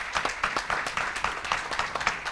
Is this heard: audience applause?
yes